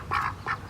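Farm ducks quack in two short, loud bursts close by in a backyard coop, with no one talking over them.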